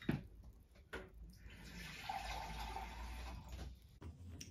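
Water poured steadily into a measuring container, a continuous hiss and gurgle of about two seconds, close and fairly quiet, with faint knocks before and after.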